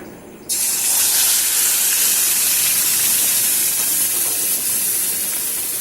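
Coconut, chhana and milk powder paste hits hot ghee in a kadai with a sudden loud, steady steam-like hiss and sizzle that holds without a break, close and with no voices.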